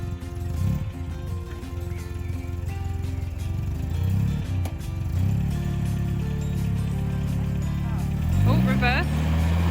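An MGA roadster's engine idles and revs as the car pulls away, a low steady drone that rises in pitch near the end, with people talking and cheering excitedly over it.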